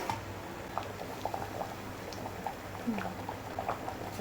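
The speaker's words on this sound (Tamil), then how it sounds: "சாம்பார் நல்லா கொதிச்சிருச்சு," Sambar simmers at a rolling boil in a pot, soft bubbling pops and gurgles scattered steadily over a low hiss, close and moderately quiet.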